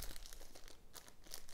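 Plastic bag holding Lego Technic parts crinkling as it is handled, quiet close rustles and crackles in uneven bursts.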